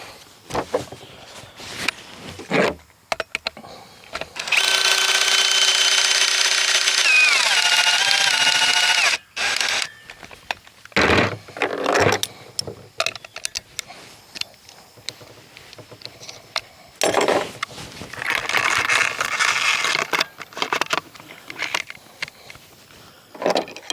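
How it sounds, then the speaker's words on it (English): A TenPoint Venom crossbow is cocked with a loud, steady mechanical whir that rises in pitch and lasts about four seconds. Scattered clicks, clunks and handling knocks come before and after it. "I'm going to go ahead and cock the bow again here."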